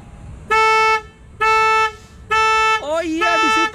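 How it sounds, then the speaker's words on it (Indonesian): An SUV's car horn honks three times in steady, evenly spaced bursts, loud and close, followed by a rising warbling beep overlapping the last honk. "kita nyalain lampu dan klakson"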